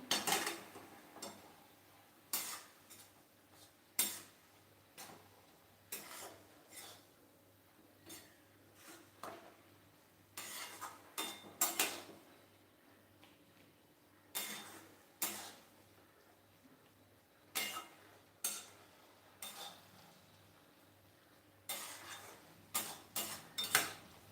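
A spoon scrapes and taps against a pan as finely ground paste is stirred into dill (shepu) greens, giving irregular clinks and rubs spread through the clip, fairly close, with no talking.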